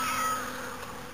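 A single close cat meow outdoors among wild grass, drawn out and fairly loud, fading over about a second with no voices.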